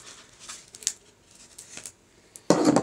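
Scissors snip around a molded line on a plastic Febreze bottle, with a few soft cuts followed by a louder burst of crunching plastic near the end.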